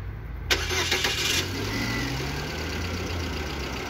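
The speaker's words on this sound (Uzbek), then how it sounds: "Mashinamiz masofadan zavod bo'ladi." A car engine starts by remote start: a short burst of cranking settles into a steady, close idle hum, with no talk.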